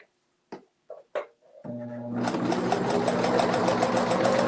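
A few clicks and short handling knocks lead into a sewing machine running steadily as it stitches a fabric bowl cozy, close, loud and even-paced.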